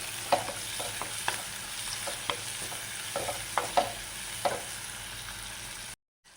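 Ginger, green chilli, shallots and garlic sauté in a pan for a beetroot curd curry. There is a steady soft sizzle with repeated spatula scrapes and taps, close up, and it ends abruptly in silence.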